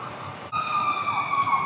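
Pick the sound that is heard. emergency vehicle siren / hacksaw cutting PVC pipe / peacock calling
emergency vehicle siren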